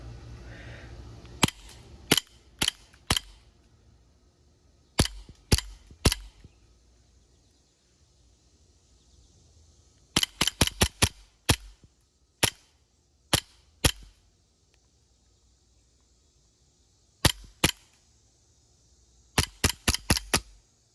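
A Sig Air M17 gas blowback airsoft pistol firing .25 BBs, close and loud, with sharp cracking shots that come singly and in quick bursts of three to five, separated by silent pauses.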